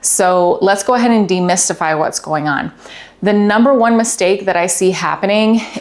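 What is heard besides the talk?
None of the usual background noises is heard.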